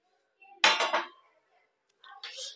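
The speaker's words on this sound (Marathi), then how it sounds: "आता आपण झाकण काढूया." A pot lid is lifted off a cooking dish in a home kitchen, giving two quick metallic clatters followed by a softer clink after a short pause, all close and otherwise quiet.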